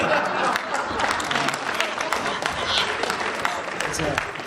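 A school Shark Tank audience applauds steadily and loudly, the clapping dense and continuous from start to finish with a few sharper individual claps standing out.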